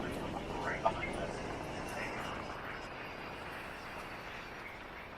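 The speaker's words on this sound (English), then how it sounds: "Looks like we got a flight coming in, Alaska Airlines" Alaska Airlines passenger jet coming in to land at San Diego Airport, a steady broadband engine roar that fades a little as it goes, with voices talking over it.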